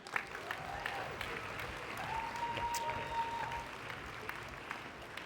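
Faint, distant applause from wedding reception guests, a soft patter of clapping through the whole stretch with a thin steady tone briefly running under it.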